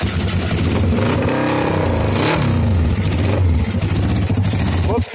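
An old motorcycle, left ten years in a garage, catches and runs with a loud, rough, uneven engine sound up close, a man exclaiming over it before it cuts out at the end.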